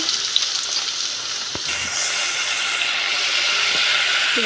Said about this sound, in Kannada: ಒಗ್ಗರಣೆ ಕೊಡ್ತೀನಿ ಇದು ಕಾದೈತ್ರ ಡಬಲ್ ಎಣ್ಣೆ ಹಾಕೇನ್ರಿ